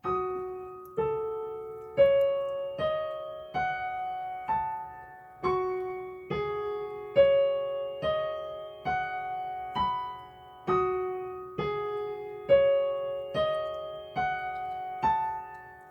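Solo piano plays a slow, evenly paced passage from Debussy's Clair de lune, single notes and soft chords each struck clearly and left to ring and decay, no voices.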